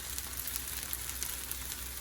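Fried rice with green onions fries in a pan on a stove, giving a steady, even sizzle that stays fairly faint and unbroken throughout.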